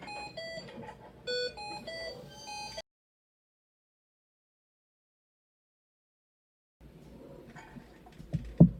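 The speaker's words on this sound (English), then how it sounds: "The alarm is designed to let us know that we've lost one of our source gases." A repeating electronic alarm tone from an oxygen blender signalling loss of a source gas sounds for a few seconds, then cuts out to silence before faint background noise and a thump return.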